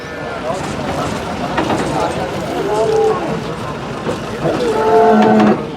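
Cows moo several times, long low calls close by, with people talking over a busy outdoor background at the Sardarnagar cow market.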